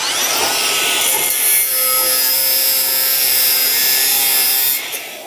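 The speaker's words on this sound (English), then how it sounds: "And who doesn't love a good grinder, right?" An angle grinder works against a concrete basement foundation wall, giving a loud, continuous abrasive whine and rasp that holds steady up close before cutting off at the end.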